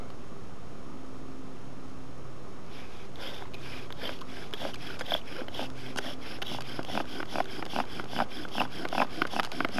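A wooden bow drill spindle rubs against a wooden board, a steady rhythmic back-and-forth grinding that starts quietly and grows louder and faster in repeated strokes, close by with no talking.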